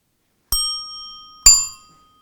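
Two bright metallic rings from a two-tone bell on a 1927 Cleveland bicycle, each strike close and clear with a lingering shimmering decay, the second ring louder, no talking.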